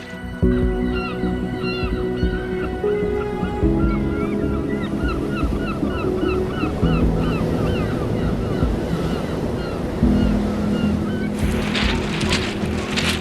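Seaside waves wash steadily at a Devon beach as wind buffets the microphone, with faint chirping birds and a low sustained tone running underneath.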